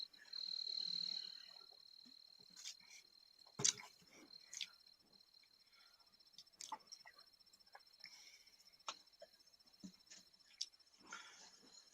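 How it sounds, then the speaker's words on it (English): Faint crickets chirping in steady repeated pulses outdoors, with a few soft clicks and a quiet voice nearby. "I'm hearing the cricket."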